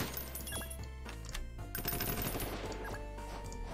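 Shooter units open fire in Roblox Noobs in Combat, giving rapid rattling gunfire over a busy game soundscape with music-like tones, steady at moderate volume throughout.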